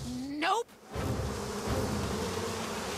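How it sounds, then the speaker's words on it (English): A swarm of bees in the video game Psychonauts 2 buzzes loudly and continuously up close, after a brief rising whine at the start and a short gap. "Not the bees! Anything but the bees!"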